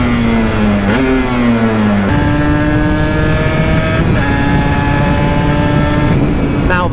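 A 2-stroke Aprilia motorcycle engine with a loosened power valve revs loud and close, its buzzing pitch dipping and then climbing in rising steps.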